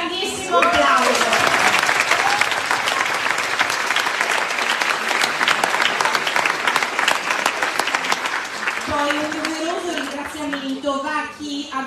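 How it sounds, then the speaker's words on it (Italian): Loud, sustained audience applause fills a theatre after an amateur Lion King musical staged in San Zenone degli Ezzelini, steady clapping with scattered cheers and children's voices, thinning near the end as a voice begins speaking. "Ecco, un grandissimo applauso."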